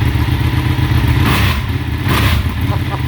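A 2016 Ducati 1299 Panigale S idles loud and close with a lumpy, clattering rumble, then gets two quick throttle blips that swell the engine note briefly before it settles back.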